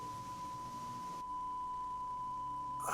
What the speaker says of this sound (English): please stop with the like loud beeping in one ear or just the loud beeping in general